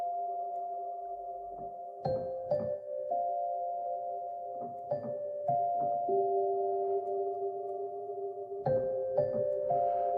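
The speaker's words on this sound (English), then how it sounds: "the integration of the atmospheres with the raw samples of the Celeste itself is super tight and beautiful" Moonlight Celeste, a Fracture Sounds sample library, plays soft bell-like celeste notes in slow clusters over a sustained, airy atmospheric pad, clean and gently ringing with no voices.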